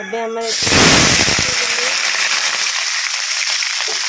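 Food dropped into hot oil in a fully heated kadai sizzles in a loud, steady burst of close hiss that holds throughout, with a brief voice at the very start.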